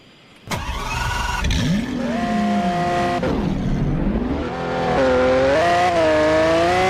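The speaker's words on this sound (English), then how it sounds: "This Lamborghini is loud!" A Lamborghini engine fires up with a sharp start, then revs loudly through rising and falling pitch sweeps, settling into a strong, steady high idle close by.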